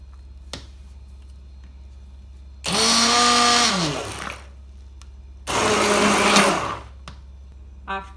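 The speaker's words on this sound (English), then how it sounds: "And blend it nicely with a hand blender." A hand blender whirring through an egg pudding mixture of milk, soaked bread and eggs in two loud bursts of a few seconds each, its motor pitch dipping as it loads, separated by quiet pauses.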